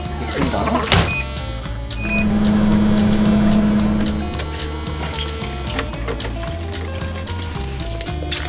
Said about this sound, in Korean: 미트볼을 지글지글 거리면서 맛있게 또 익어가고 있어요